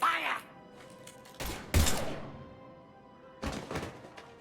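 Gunfire in the video game Mass Effect 3: a few sharp, loud bursts spaced a second or two apart, with people talking over and between the shots.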